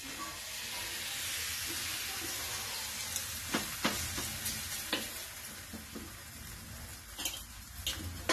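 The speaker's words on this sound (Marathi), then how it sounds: "आता आपण तव्यावर घालू।" Oil-cooked Maharashtrian puran poli, a stuffed flatbread, sizzles softly on a hot griddle in a low continuous hiss, broken by a few sharper crackles and light taps, with no voices.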